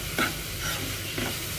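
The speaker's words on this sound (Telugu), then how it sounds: "ఉప్పు, కారం వేసుకొని ఇలా కలిపేసుకోవాలి." Salt and chili powder being stirred into cooking oats upma in a pan, with a few soft scraping strokes over a low, steady sizzle, close and fairly quiet, no talking.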